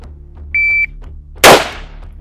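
A single sharp electronic beep from a shot timer sounds at a military shooting range, followed moments later by one loud, close gunshot crack with a decaying tail.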